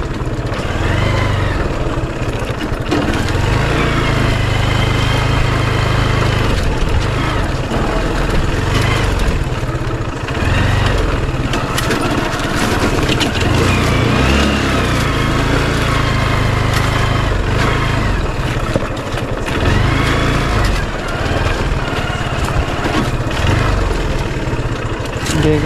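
A Bajaj CBZ motorcycle engine runs steadily and loudly on an off-road village track, a continuous throbbing drone with slight shifts in pitch, while voices are faintly audible beneath it.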